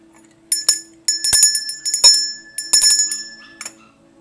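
A small bell rung during a Filipino tarot ritual strikes several times in bright, clear tones, each hit ringing on with sustained shimmering overtones before fading, with no speech over it.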